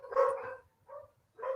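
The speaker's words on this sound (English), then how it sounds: "Whose dogs is that?" A dog barks in three separate bursts, with short gaps between them. The barks are moderately faint and there is no other sound.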